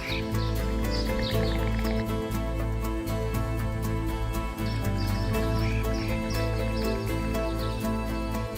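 Migratory birds chirp and call repeatedly in short bright bursts over a steady low background hum by a river in a preserved natural wetland site, with no talking.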